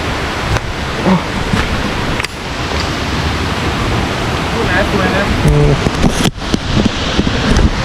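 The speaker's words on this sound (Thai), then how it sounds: "โอ้นี่เป็นน้ำตกนะครับ" Forest waterfall in a park woodland at a stream's headwaters in Khun Han, Sisaket, Thailand, giving a steady, loud broadband rush of falling water throughout with brief rustling and handling noises near the end.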